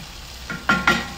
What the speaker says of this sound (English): Yeah, we've got a bit of sizzle there.